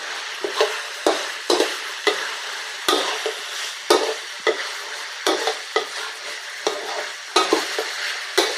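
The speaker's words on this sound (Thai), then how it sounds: "สตอลงไปผัดเลยเนาะ" Pork stir-fried with shrimp paste and stink beans in a pan, sharp regular spatula scrapes and clacks roughly every half second over a steady sizzle, with no talking.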